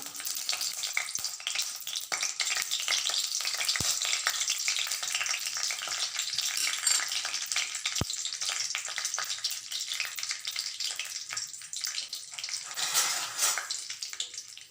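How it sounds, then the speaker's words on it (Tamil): Mustard seeds crackling and popping in hot oil, a dense, continuous spluttering sizzle with a few sharp isolated pops, steady and fairly close throughout. "எண்ணெய் சூடாயிடுச்சு இப்போ கடுகு சேர்த்துக்கலாம்"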